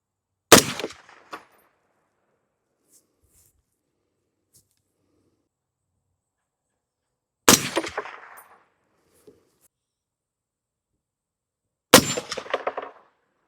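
Three suppressed shots from a POF Revolution .308 piston rifle, each a sharp muffled crack followed by a metallic ring from a distant steel target, spaced several seconds apart with silence between and no talk.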